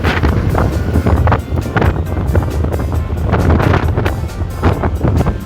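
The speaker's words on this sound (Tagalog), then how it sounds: "Buti mahangin." Gusty wind buffeting the microphone while cycling along a road, loud low rumbling bursts that rise and fall continuously with no talking.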